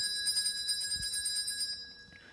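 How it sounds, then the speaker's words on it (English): A bell rung by pulling a bell rope in a stage radio-play setting sounds as a steady ringing tone with high overtones that fades near the end, with a faint thump partway through. "Oh, give that bell rope a pull, will you?"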